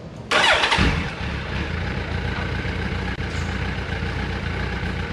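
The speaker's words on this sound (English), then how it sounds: "Hear how low the idle is and how it was a little hesitant to start up" A 2007 Suzuki Hayabusa motorcycle with about 4,000 miles, stock and untouched, cranks with a slight hesitation and catches with a loud burst, then settles into a steady, low, rumbling idle close by.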